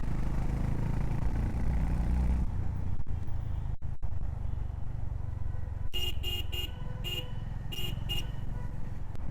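A Honda H'ness CB350 motorcycle pulls away from low speed in third gear, its engine droning loud and close, while car horns honk repeatedly in traffic nearby toward the end.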